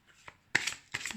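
A card drawn from an oracle deck, heard as a couple of soft, close papery slides and flicks of cardstock in a quiet room.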